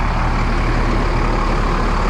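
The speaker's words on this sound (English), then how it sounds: "Let me go turn the engine off." Loud, dense idling engine rumble of a 38 ft Beaver Monterey RV, steady and close throughout with broadband mechanical noise and no talk.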